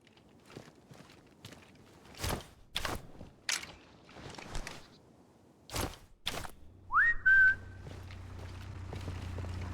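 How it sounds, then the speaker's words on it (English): A player character in the stealth shooter Sniper Elite 5 gives a single short, rising whistle to draw an enemy, following a run of footsteps and scuffing thuds, with a low steady hum continuing afterward. "and then I want to whistle right on top of it"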